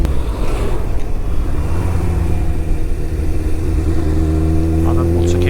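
A Honda CBF 1000 motorcycle engine running smoothly with a steady low hum, rising slightly in pitch near the end, loud and close, with wind noise over the rider's microphone.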